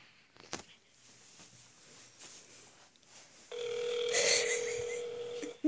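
A phone call for a prank call: a few faint clicks of dialing, then a steady, loud ringback tone that holds for about two seconds before cutting off.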